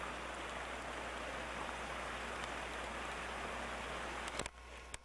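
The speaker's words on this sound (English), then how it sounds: "Pitter patter come the raindrops as we finish our hike." Raindrops patter on a hike through Targhee National Forest in Clark County, Idaho, a faint, even hiss of rain continuing throughout with a few louder clicks near the end.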